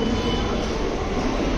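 Steady loud rumble and rush of a Delhi metro train running at the station, a continuous noisy roar with no clear voices.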